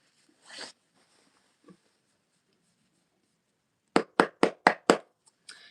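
Tarot cards are shuffled in a quiet room: a soft riffle and a faint tap early on, then a quick run of five crisp slapping bursts and a final softer one.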